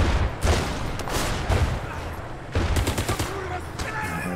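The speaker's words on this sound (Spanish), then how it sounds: "Nos vamos a liar a tiros aquí, ¿no? Esto es liarse a tiros, ¿no?" Gunfire in the war video game War Mongrels: repeated bursts of rapid shots and a fusillade of crackling automatic fire, loud and dense, with someone talking over the action.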